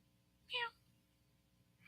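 A person voices a short, bright meow in imitation of a cat, a single rising-and-falling cry in an otherwise quiet moment, with a faint sound at the very end.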